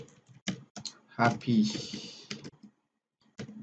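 Clicks of a computer keyboard as a message is typed, short bursts of keystrokes broken by pauses, close by and mixed with a person talking.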